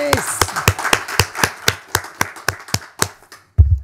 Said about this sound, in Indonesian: Tepuk tangan buat Ruben Onsu